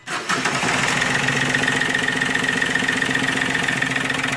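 A Chevrolet Beat with a newly replaced turbocharger cranks briefly and catches, then settles into a steady, even idle close by, with no talk over the engine.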